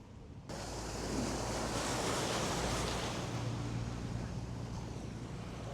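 Floodwater in Kilinochchi, Sri Lanka, roars steadily and loudly throughout, a broad continuous wash of flowing current with no voices.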